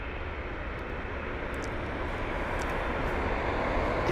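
A United Boeing 787 airliner taxiing at London Heathrow gives a steady, broad jet-engine rumble that holds constant throughout, fairly loud and a little distant, with no voices.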